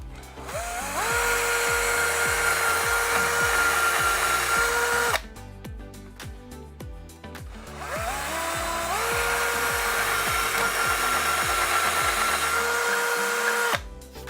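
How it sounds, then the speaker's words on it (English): A power drill whirs up to speed and bores steadily for several seconds, pauses briefly, then drills a second hole while fitting wooden blinds; loud and close with no talking. "we're ready to drill the final 2 holes"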